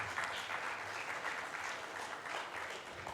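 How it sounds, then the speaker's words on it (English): A conference audience applauds the panelists at a Brahmo gathering in Hyderabad, a sustained, even round of clapping from a hall crowd, moderately distant and without speech. "Can we have a huge round of applause for all the panelists?"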